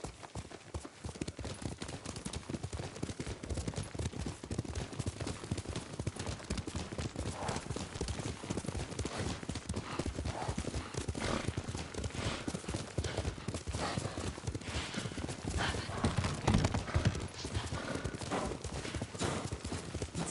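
Horse hooves clip-clop steadily as a horse is ridden in the video game Ghost of Tsushima, a continuous rapid rhythm of hoofbeats heard close and fairly faint, with no talk.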